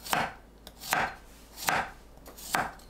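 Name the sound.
slicing garlic with a knife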